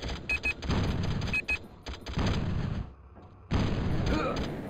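Tank cannon shots fire in the Battlezone video game, several sharp, punchy blasts in quick succession separated by brief quiet gaps, loud and close amid game sound effects.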